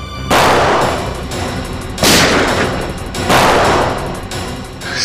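Loud gunshots in a highway shootout in a Hindi crime drama: three heavy, booming shots spaced a second or so apart, each trailing off into a continuous roar of echoing noise.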